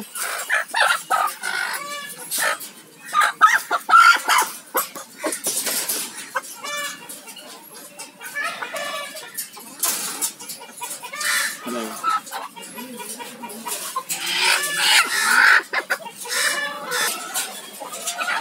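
Caged chickens at a bird shop, including the Egyptian Golden breed, clucking and squawking continuously and close by, with a rooster crowing among them and someone talking over the flock.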